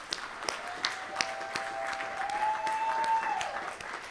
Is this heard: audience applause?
yes